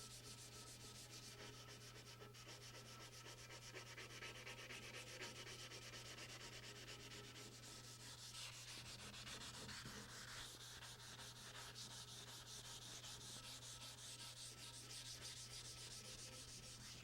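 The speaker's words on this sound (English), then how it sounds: "that mineral spirits is acting as a lubricant when sanding so that this 320 grit doesn't get clogged up" Steady wet sanding with 320-grit wet/dry sandpaper lubricated by mineral spirits on a Delta Unisaw restoration, a continuous close, even rubbing hiss with a constant low hum beneath and no talking.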